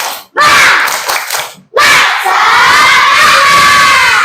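Schoolchildren in a classroom loudly chanting the tepuk semangat clap chant together, two energetic bursts of massed young voices with a short gap between, close and very loud.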